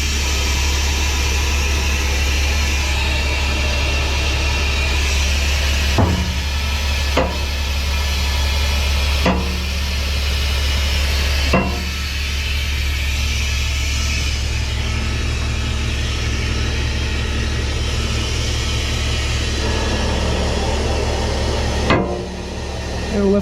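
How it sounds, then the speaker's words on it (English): A 1965 Autocar truck runs steadily with a loud, low engine drone while its body is raised, with several sharp clanks and hisses of air breaking through the constant rumble. "And we're gonna lift our body up"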